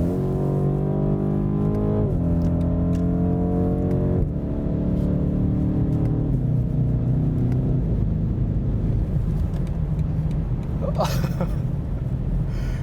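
A 2019 BMW M850i in Sport Plus mode downshifting manually, heard from the cabin as three stepped rises in engine pitch at each gear change over a constant low rumble, with a brief sharp noise near the end.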